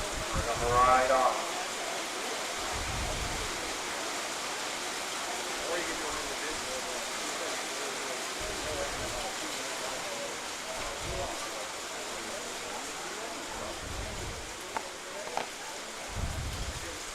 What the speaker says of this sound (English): the rain is really coming down quite hard